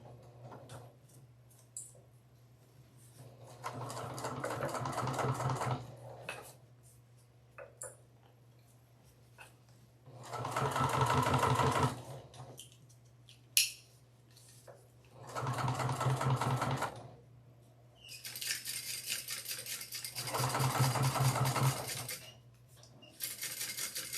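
A sewing machine top stitches a Lemonza Clutch in several steady, moderately loud runs of a few seconds each, separated by quiet pauses with small clicks and handling sounds.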